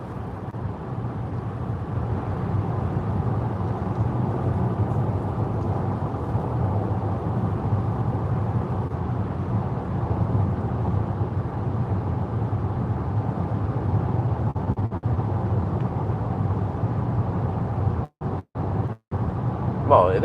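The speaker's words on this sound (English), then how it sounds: "it is a bit loud on the rough asphalt here" Steady, loud road roar inside a Mercedes GLB 350 4Matic on rough asphalt: a constant low rumble with tyre hiss that holds for the whole stretch, broken by a few brief dropouts near the end.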